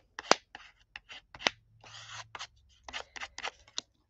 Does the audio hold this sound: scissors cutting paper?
yes